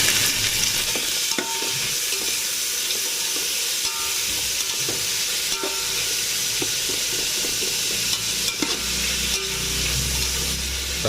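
Chopped tomatoes frying with golden-brown onions in a pan for Ambur chicken biryani, a steady loud sizzle with stirring scrapes throughout, no voices.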